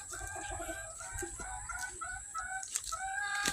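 Chickens cluck busily at feeding time as fresh feed is dumped out, with a rooster crowing among short repeated clucks, moderately close and fairly quiet, no talking.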